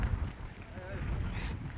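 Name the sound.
strong wind during Cyclone Biparjoy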